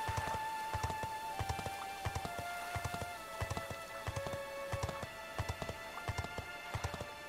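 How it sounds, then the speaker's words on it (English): Steady, rhythmic hoofbeats of a horse running in Dragon Quest XI, with repeated clip-clop thuds at a moderate, even pace heard alone over a soft tonal game music background. "It's a little pleasant horse run."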